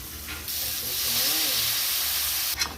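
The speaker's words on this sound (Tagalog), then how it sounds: "Kaya tayo ng igisa nating laman." Meat sautéing in a pan for Filipino pinapaitan, a steady close hiss and sizzle that runs almost unbroken for a few seconds, with no voices.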